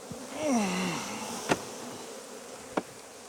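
Endemic Indian Ocean honeybees buzz close by, one wavering flight tone rising and falling before fading, followed by two sharp clicks, with no other sounds.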